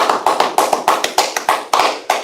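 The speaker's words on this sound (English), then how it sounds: "Clap it up for the class." A small class claps in unison inside a Harlem meeting room, roughly ten sharp, evenly spaced claps in a steady rhythm, loud and close with no talking over them.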